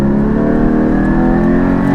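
A Porsche Cayman GT4 engine revs hard under acceleration, a loud, close, continuous howl that climbs in pitch and fills both seconds.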